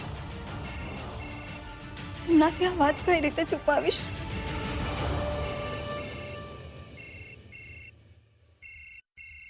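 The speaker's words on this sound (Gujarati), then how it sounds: "સવારથી આ ફોનની આટલી બધી ઘંટડી કેમ વાગે છે?" A home telephone sounds its ringtone in repeated short electronic bursts, first under a voice and dramatic music, then alone and clear at the end.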